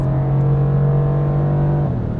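A 2018 Mercedes-AMG GT C on a race track, its engine and exhaust holding a loud, steady drone close by with no audible change in pitch.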